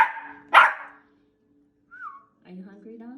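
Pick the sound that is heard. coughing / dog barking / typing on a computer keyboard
dog barking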